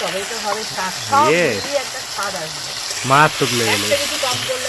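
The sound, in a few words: tomatoes added to onions frying in a pan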